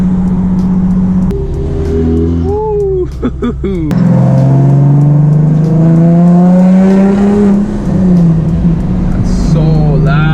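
A straight-piped Nissan 370Z/350Z exhaust roars loud and close as the car accelerates, engine pitch climbing through gears with brief shift breaks, while a person whoops over it.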